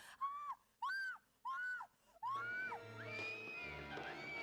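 A woman lets out a series of high, piercing whistle-like screams from the 1989 horror film Intruder: four short rising shrieks in a row, then a longer wavering cry as other muffled sounds rise beneath it.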